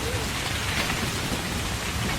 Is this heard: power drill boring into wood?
no